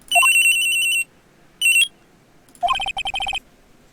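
Cell phone ringtone from the game Phoenix Wright Trilogy: bright electronic chirping melody in three bursts, a long one, a short one, then a choppy repeated pattern, clear and alone against quiet.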